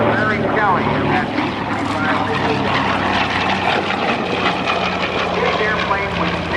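A B-17 bomber passes at an air show, its piston engines making a continuous loud drone and rumble beneath an announcer talking over a public address system.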